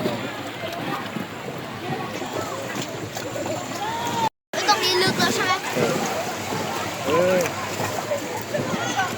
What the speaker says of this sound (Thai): น้ำไหลแรงแล้ว